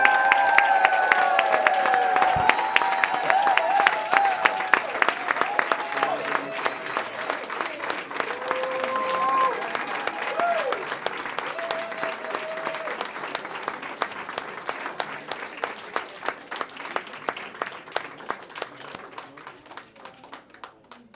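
Sustained applause from a crowd at a school district board meeting honoring a retiring employee after 46 years of service, steady dense clapping throughout that gradually thins and fades toward the end, with a few scattered voices underneath.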